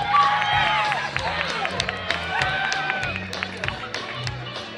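Audience applause at an outdoor Halloween costume contest, a crowd clapping and cheering steadily with scattered shouts and whistles, while a voice talks over the noise.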